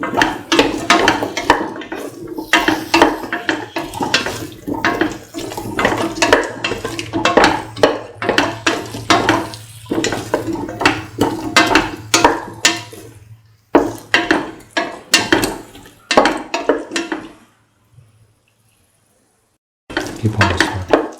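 Garlic potato rice being mixed in a pan, with continuous rhythmic scraping and clinking of a utensil against metal, close and busy, pausing briefly near the end before resuming.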